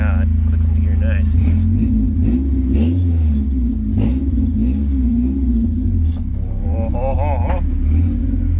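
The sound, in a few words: K24-swapped Toyota AE86 car driving off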